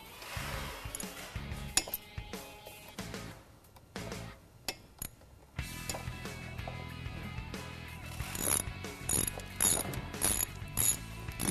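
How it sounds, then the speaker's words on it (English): A ratchet tightening the brake caliper bolts on a sportbike, with rapid clicking pawl bursts in short runs, some metallic clinks between strokes, close up and alone. "you're going to want to tighten up your caliper bolts"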